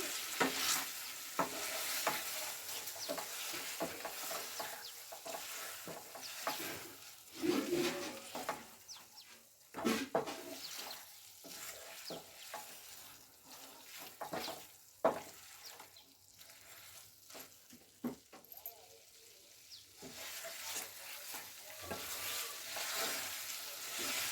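Chicken is stirred and sautéed in oil that has separated out during slow frying. A soft sizzle runs throughout, with scraping stirs at irregular intervals and a few louder knocks.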